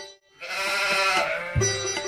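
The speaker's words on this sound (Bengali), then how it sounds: "এই ছাগলটা আসি আর ডাকায় কেন?" A goat gives a single loud, wavering bleat close by, held for well over a second after a brief pause.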